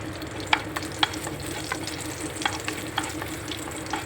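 Flattened rice pulao fries in ghee with spices in a pan, giving a steady low sizzle broken by sharp scrapes and clicks of a spoon stirring at irregular intervals, close and fairly quiet.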